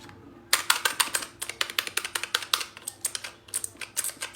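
Close, crisp typing on an A4tech Bloody B820R mechanical keyboard: after a half-second pause, a fast, steady stream of clacking keystrokes continues to the end with no talking.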